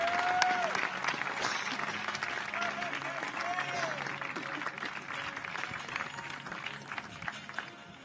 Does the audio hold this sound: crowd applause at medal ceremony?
yes